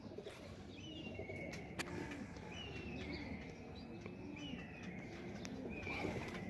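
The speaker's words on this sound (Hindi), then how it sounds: "कबूतर आपके सामने है" Kasuri pigeons coo in a repeated, soft rolling rhythm close by, with chirps from other birds and low background hum underneath.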